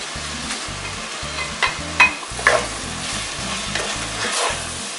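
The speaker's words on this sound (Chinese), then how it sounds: "我们稍微炒一下，接下来把刚才我们炒好的五花肉条" Pork belly strips stir-fried in a wok, a steady sizzle broken by rhythmic scraping and tossing, with a few sharper clinks from the spatula.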